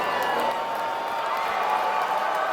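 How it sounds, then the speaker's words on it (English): Arena crowd cheering in the Steins;Gate Elite video game, a continuous muffled roar of many voices with scattered claps and whoops, heard steadily throughout. "A loud cheer bursts forth from the arena"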